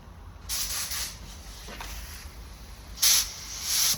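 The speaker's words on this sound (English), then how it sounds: "What I like to do when I put my clear on, spray it around, low pressure, and just go around." A spray gun laying clear coat on a car bumper hisses in short, close bursts at low pressure, with a louder burst near the end over a faint background hum.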